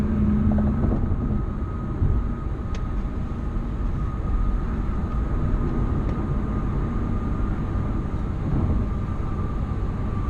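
A 2018 Audi A4 quattro with a manual gearbox cruising in sixth gear at about 65 mph and 2,000 rpm, a loud, steady low rumble of engine and road noise throughout.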